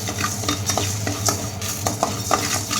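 Fenugreek seeds dry roasting in a pan for prawn pickle, stirred steadily with a utensil, giving a continuous rustling scrape with faint metal taps, close and fairly loud.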